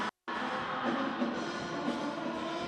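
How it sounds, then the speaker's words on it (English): Northeastern hockey fans at a Beanpot consolation game fill the arena with a dense, sustained roar of angry crowd noise, steady and loud throughout after a brief silent gap at the start. "that is the sound of the Northeastern fans just screaming in anger"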